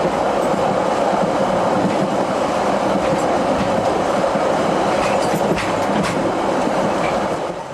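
A train climbs mountain valleys toward Arthur's Pass, giving a continuous loud rolling rumble with clickety-clack wheel noise and faint squeals, steady throughout.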